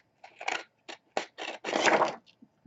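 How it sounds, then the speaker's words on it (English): Scissors cut paper in a craft session, a series of close, crisp snips and slicing crunches in short bursts, ending in a longer continuous cut. "So I don't use my good scissors when I'm doing the glue triangle."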